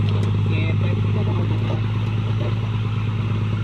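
A steady low engine drone runs throughout with a strong hum from a tractor working close by on soft muddy ground, with voices talking over it.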